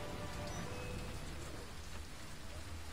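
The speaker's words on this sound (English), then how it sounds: "Really should stop it raining, because it must be very inconvenient it getting so wet." Steady rain falling in a video game match, a constant soft hiss of drops spread evenly throughout, fairly quiet and unbroken, with no voices over it.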